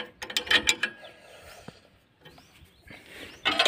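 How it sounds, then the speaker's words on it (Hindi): A wrench tightens the lock nut on a tractor clutch pedal, making quick bursts of close metallic ratcheting clicks at the start and again at the end, with a quieter pause in between. "तो हम इसे अब लॉक नट को हम टाइट कर देंगे।"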